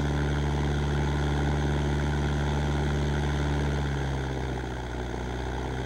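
Steady, loud drone of a propeller aircraft engine in flight, constant throughout with a slight drop in pitch near the end; no voices.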